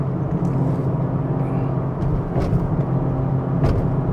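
A Mazda CX-3 SUV with a 1.5-litre engine climbs the Genting hill road. Its engine gives a steady, loud drone heard from inside the cabin, with no talking.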